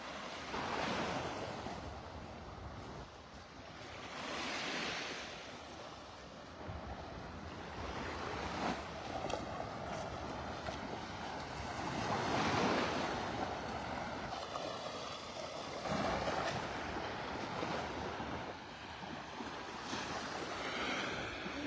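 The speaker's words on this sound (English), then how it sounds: "Loving the sounds of these little waves rolling up on the shore here." Small waves wash steadily onto the shore at Delnor-Wiggins beach in North Naples, Florida, in repeated soft surges, with a light breeze over the microphone and no voices.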